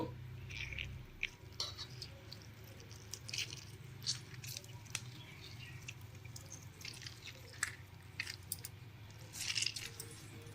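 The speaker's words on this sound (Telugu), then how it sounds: "నిమ్మకాయలు పింటున్నాను అనమాట" Lemons squeezed by hand over a dish of spicy cauliflower and peanut powder mix, giving soft wet squishes and faint drips in a steady, close, quiet run with a low hum underneath.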